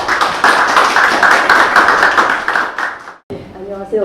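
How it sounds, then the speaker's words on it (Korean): Audience applause at a Korean book talk for a women's Buddhist festival, a steady dense patter of many hands lasting about three seconds, then cutting off abruptly as a speaker begins talking. "박수 부탁드립니다"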